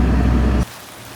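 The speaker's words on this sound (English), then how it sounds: "and it's raining" Heavy rain pouring down as a loud, dense hiss for about half a second, then cutting off abruptly to a much quieter background.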